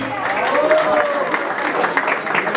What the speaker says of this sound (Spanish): con el aplauso bonito para ella.